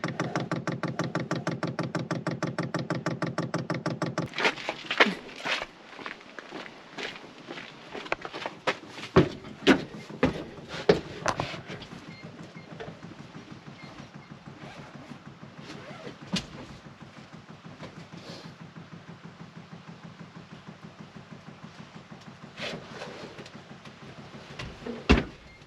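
A Chinese diesel heater bought from Amazon priming its fuel pump gives a steady, fast ticking pulse, joined partway by scattered knocks and clunks nearby, then continues as a quieter regular clicking.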